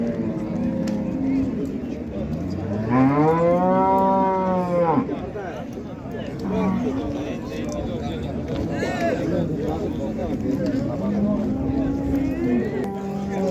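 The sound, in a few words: cow mooing at livestock market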